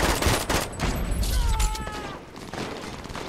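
Rapid gunfire bursts from the video game Brink, dense crackling volleys with shots overlapping and a brief mechanical ringing tone in the middle, all at close range and loud.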